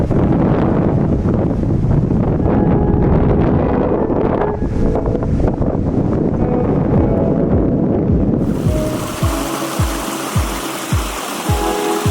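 Strong wind roaring across an open viewpoint on the Appalachian Trail just off the Blue Ridge Parkway, buffeting the microphone continuously, with heavy low rumbles and gusty thumps toward the end.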